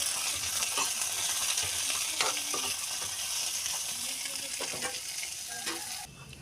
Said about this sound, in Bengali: এরপরে আমি কাঁকরোল অ্যাড করলাম। কাঁকরোলটা আমি ভালো করে ভেজে নেব।